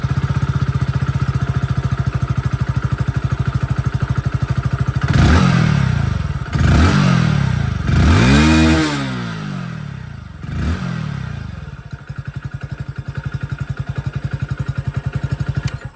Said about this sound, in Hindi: आवाज में सबसे पहले स्प्लेंडर प्लस की आप लोगों को सुना दूं।